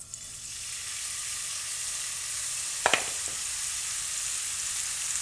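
Stew meat sizzles in hot olive oil in a pan over a gas flame, a steady broadband frying hiss with a couple of brief louder crackles near the middle, no voices.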